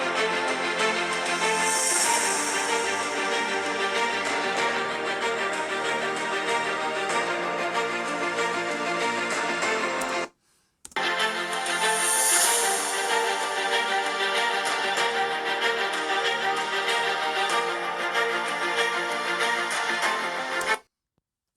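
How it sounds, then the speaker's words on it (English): Playback through the Dolby-tuned speakers of an Alienware X15 R2 15-inch gaming laptop at 80% volume, steady full-range music filling the room for about twenty seconds with one brief drop-out midway, no talking. "the Alienware has the Dolby tuned speakers,"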